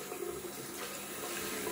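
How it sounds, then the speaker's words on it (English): Hot tap water runs steadily from a faucet as a shaving soap tub is rinsed under it, a soft, even splashing hiss with no talking. "I'm always rinsing my soaps with warm to hot, or actually quite hot water."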